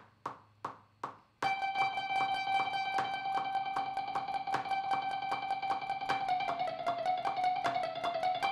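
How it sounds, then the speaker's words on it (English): Electric guitar playing a steady eighth-note figure at 154 bpm with a delay effect, the echoes filling in between the picked notes to create a continuous, rhythmic ringing pattern after a few sparse opening plucks, played alone. "But if I put on the delay, it sounds like one and a two and a three and a four"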